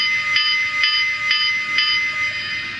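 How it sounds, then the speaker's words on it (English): Four evenly spaced metallic dings ring from the electronic bell of a Polar Express Elf Work Train toy locomotive, bright and thin, each fading briefly before the next. "This is the bell."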